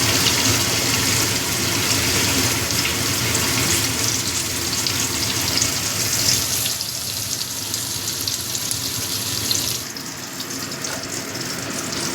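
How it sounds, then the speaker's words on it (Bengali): Steady, loud sizzling of eggplant slices frying in hot oil, a dense crackling hiss that continues throughout and eases slightly near the end. "এবার আমি বেগুনগুলো ভেজে নিচ্ছি"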